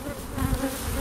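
Honey bees buzzing around an opened hive during a queen search, a dense close hum with wavering tones as individual bees pass near, no talk.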